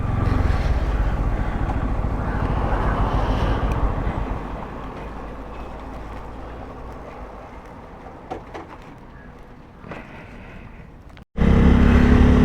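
Motorcycle climbing a hill road in Kerala, a continuous low engine drone with heavy wind buffeting that eases to a quieter run, then cuts out briefly before surging back loud.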